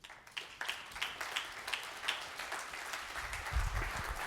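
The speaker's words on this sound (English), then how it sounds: "Another round of applause just for Jeff, John, the whole BevNet team." A live audience applauds to welcome speakers at the BevNET Live Winter 2016 beverage-industry conference: steady, dense clapping from many hands fills the room throughout, with no voices over it.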